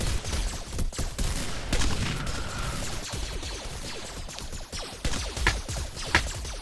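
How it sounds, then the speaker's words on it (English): Automatic turret gunfire in the Hypixel Galaxy Wars video game: a steady, dense fusillade of rapid shots with sharp cracks popping out near the end, loud and without talk. "they do automatically shoot at everything in front of them"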